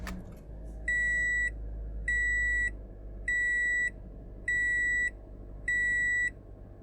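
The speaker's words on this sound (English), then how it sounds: "Let's turn the car on, see what that looks like." Five evenly spaced electronic beeps chime in a steady rhythm over a low engine-like hum as a 2017 Toyota Corolla SE is switched on, each tone held for most of a second.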